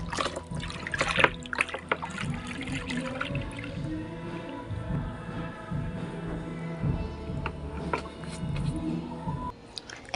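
Homemade fabric softener is stirred in a container, giving a wet sloshing and trickling with scattered clinks and splashes at moderate, close volume.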